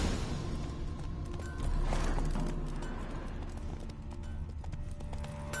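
Hooves of Roach, the horse in The Witcher 3, clip-clopping steadily under dense game ambience and music, a fairly continuous trotting rhythm with no clear pauses.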